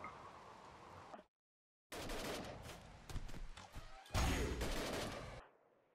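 Rapid gunfire in the modded RimWorld game, dense bursts that briefly cut out and then return louder, with heavy crackling volleys and no talking.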